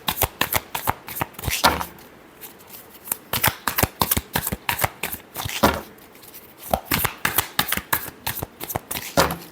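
Tarot cards are riffled and shuffled by hand in a fast, crisp run of flapping bursts, close and loud, with brief pauses between rounds.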